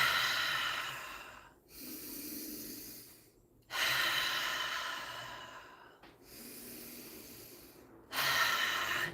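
Deep, forceful breaths drawn in and pushed out in a slow, regular cycle, each long rushing inhale or exhale separated by a brief pause, close and breathy with no talking.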